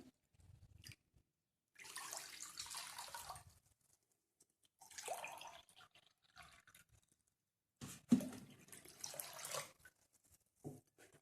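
Cold water is poured into two glasses in several separate bursts with quiet pauses between them, a faint splashing trickle heard close up.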